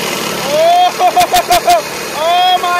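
A small go-kart engine whirs steadily, cuts into a burst of short stuttering pulses, then settles back to a steady drone, loud and close.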